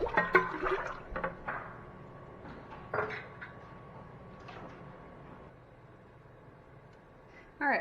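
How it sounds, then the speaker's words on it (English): Homemade vegetable broth pours into a cooking pot during vegan freezer-meal prep, with splashy gushes of liquid in the first second or so, then a few fainter sloshes before the sound settles into quiet room tone. "I've added all my broth."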